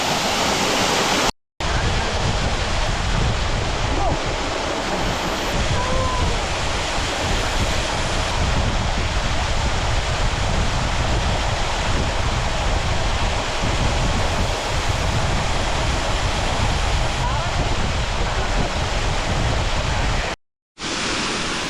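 Pampanal Waterfall pours in a steady, loud, unbroken roar of rushing water, dense and wide, with two brief drops to silence near the start and end.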